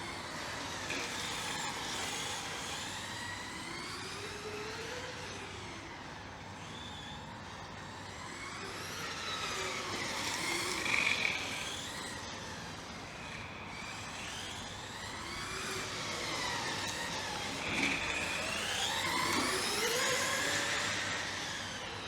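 A Traxxas Rally VXL-3S radio-controlled rally car with a central differential runs across a parking lot, its high electric motor whine rising and falling continuously as it accelerates and passes, fairly near and loud throughout.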